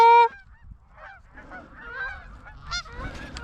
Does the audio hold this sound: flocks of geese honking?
yes